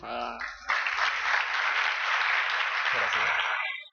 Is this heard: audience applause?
yes